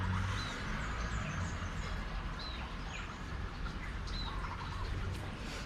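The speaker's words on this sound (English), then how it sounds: "Mostly we have pigeons and songbirds" Pigeons and songbirds call outdoors at a home in Ban Chang, Rayong, Thailand, with scattered chirps and tweets over a steady, rumbling background of distant traffic or wind.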